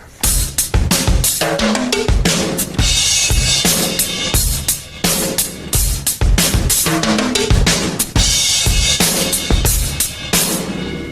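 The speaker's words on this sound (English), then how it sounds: "the basic fill involving the timbalis and rotos and all that sounds like this" A fast linear drum fill races across timbales and rototoms in a 1980s metal drumming setup, with dense, loud, rapid single strokes tumbling around the toms with cymbal wash.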